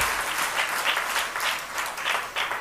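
A church congregation claps together in praise during a Telugu prayer meeting on fasting. The clapping is loud, dense and sustained, with rhythmic surges and no voices over it.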